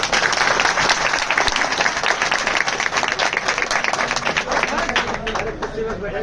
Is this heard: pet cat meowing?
no